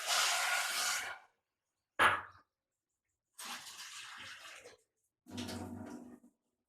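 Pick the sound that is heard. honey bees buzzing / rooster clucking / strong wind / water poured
water poured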